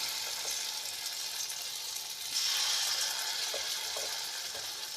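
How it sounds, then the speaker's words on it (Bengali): Small sesame and poppy seed fritters frying in hot oil, a steady near sizzle with a few soft stirring clicks, rising slightly louder halfway through, and no voices. "আস্তে আস্তে ছোটো ছোটো করে বড়ার আকারে এটাকে আমি ভেজে নেবো"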